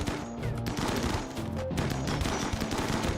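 Rapid bursts of gunfire in Rimworld, loud crackling volleys overlapping with layered game sound throughout.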